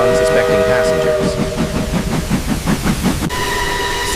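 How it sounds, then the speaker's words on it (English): An express train speeds through the night with a rhythmic clatter of wheels and sustained whistle-like tones over a dense rumble, loud and continuous. "The express train speeds through the night, carrying hundreds of unsuspecting passengers."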